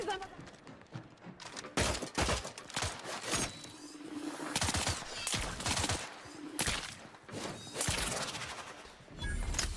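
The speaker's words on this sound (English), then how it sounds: "Shooting grenades in midair." Gunfire in the video game The Outer Worlds 2 as grenades are shot out of midair, heard as repeated loud bursts of shots and blasts spread through the clip while a person talks over the action.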